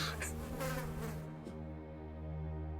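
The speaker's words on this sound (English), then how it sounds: "WB turns around and screams, and a couple bees fly out of his mouth" Insect buzzing, bee-like and fairly faint, with a steady drone and a couple of brief flutters, set in a fantasy tabletop game scene where bees fly out of a screaming mouth.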